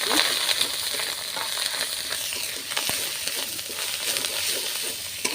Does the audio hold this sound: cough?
no